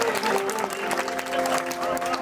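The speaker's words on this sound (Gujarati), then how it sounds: "એક જોરદાર તાળીઓ અમારા બેન્જો માસ્ટર ને" Listeners at a Ram temple gathering in Mota Rampar applaud the banjo master with a lively, continuous burst of clapping. Sustained musical tones ring underneath the clapping throughout.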